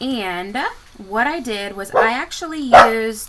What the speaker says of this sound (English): go lay down, that's my dog Dublin talking